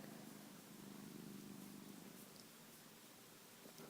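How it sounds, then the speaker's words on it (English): Soft, steady purring of a cat close by, a low continuous rumble with faint rustling, quiet and uninterrupted. "He's purring so much."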